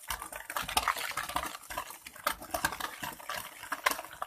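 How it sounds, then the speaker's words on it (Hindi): Sugar is stirred into fruit cake batter in a bowl: soft, uneven scraping and light clinking of a utensil, quiet and close, in irregular strokes. "अब इसे अच्छे तरीके से मिक्स कर लेते हैं।"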